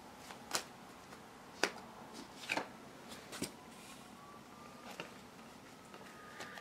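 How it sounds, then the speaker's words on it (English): Quiet handling of tarot cards: a few crisp riffles and soft slaps at irregular intervals over a faint hiss, with no voices. "Just shuffling the cards here."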